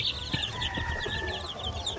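Chickens in a brooder cluck and chirp softly nearby in a steady, overlapping chatter over a low background hum.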